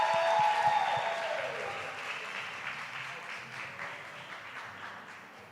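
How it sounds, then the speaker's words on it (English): Audience applause at the EDSA Prestige Awards 2022 ceremony, a full round of clapping that begins strong and slowly fades over several seconds, with a brief trailing tone at the start. "Let's give her a round of applause."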